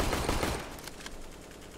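Gunfire in Counter-Strike on the Mirage map, a dense burst of rapid shots at the start that thins into scattered reports, with no talk over it.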